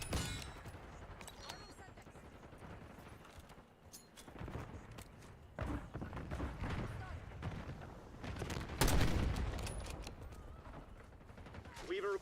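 Gunfire in the Black Ops 6 video game, with an enemy sniper shooting: scattered sharp shots and bursts in a busy firefight, some near and loud, others further off, with voices talking at times.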